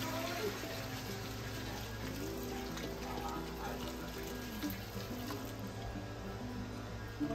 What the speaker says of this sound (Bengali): জল দিচ্ছি, গরম জল।